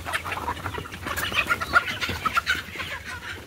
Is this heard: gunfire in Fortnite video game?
no